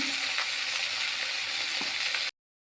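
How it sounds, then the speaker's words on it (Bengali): Spices frying in a pan for a home-cooked lunch, ginger paste, cumin powder, chili powder, green chilies and salt sizzling in a steady, close hiss with faint scraping clicks, then cutting off abruptly. "মশলাটা ভাজা হয়ে গেছে"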